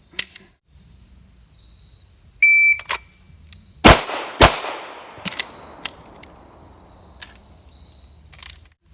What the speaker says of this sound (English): God, this gun's easy to shoot.